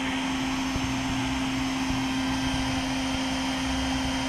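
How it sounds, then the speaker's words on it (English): Vacuum cleaner running steadily while sucking up hornets near a front-door nest, a loud constant motor drone with a strong steady hum and occasional faint ticks, no one talking. "that's why the vacuum's running"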